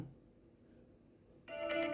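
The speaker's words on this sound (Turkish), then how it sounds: "Şu an böyle zil sesini çaldırmayı deniyorum" A TCL 303 mobile phone ringtone suddenly starts after a stretch of quiet background, a bright, tonal melody ringing out loudly and continuing to the end.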